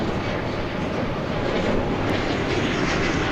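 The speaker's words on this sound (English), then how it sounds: "as we listen to an Embraer 175 E-Jet coming in from Peoria, Illinois" An Embraer 175 E-Jet airliner arriving from Peoria, Illinois comes in to land at DFW Airport in fog, its engines giving a steady, broad roar that stays constant and fairly loud without breaks.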